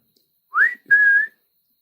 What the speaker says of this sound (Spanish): escuché que alguien silbó, así como cuando saludan